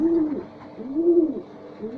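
Pigeons coo in a loft, a close, soft, repeating low warble that rises and falls in a steady rhythm, with faint background hum and no talking.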